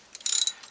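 A ratchet wrench clicking in a short rapid burst while tightening 8mm bolts on the fuel pump of a Ford Focus ST, close and crisp, without talk.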